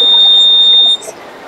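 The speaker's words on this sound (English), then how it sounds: "Anti-sleeping alarm." An anti-sleeping alarm model at a school science expo sounds one loud, steady, high-pitched electronic buzz that stops sharply after about a second.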